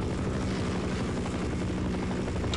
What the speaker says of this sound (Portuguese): E parece que vamos ter que derrubar mais um helicóptero